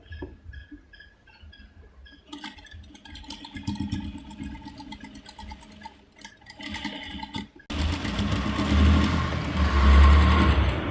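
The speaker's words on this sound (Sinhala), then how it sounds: "ඊට පස්සේ අපිට පුළුවන් මේකේ සාය වාටිය මහන්න" A sewing machine stitches a skirt hem in bursts, starting and stopping with a whirring motor close by; after a pause the running gets louder and fuller toward the end, with no talk.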